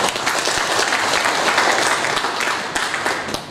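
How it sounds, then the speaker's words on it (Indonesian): Dense, loud applause fills a hall at a teachers' association inauguration ceremony, continuous clapping from a sizeable audience throughout. "Kita berikan tepuk tangan"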